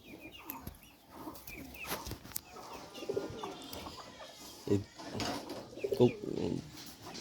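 Pigeons, including teddy-type pigeons kept shut in a loft, coo in low repeated throaty bursts, several calls close by over light background noise.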